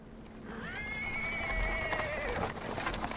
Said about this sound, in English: He's interrupted by the sound of wheels rolling on the paving stones.